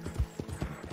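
A horse in the video game Red Dead Redemption 2 clip-clops with a quick, even rhythm of hoofbeats, close and moderately loud, with no talk over it.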